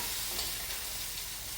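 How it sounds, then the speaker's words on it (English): Lamb loin chops sizzle and fry in a hot pan, a steady dense crackle holding at a constant level with no voices. "you can still hear that sizzle"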